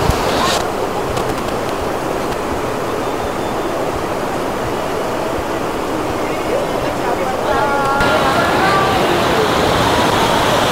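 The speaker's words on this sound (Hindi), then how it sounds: "अब एक मामूली सा झरना ही बाकी रहा है" Small waterfall pouring into a river in Himachal, a loud, dense steady rush of falling water close by, continuous throughout with no voices.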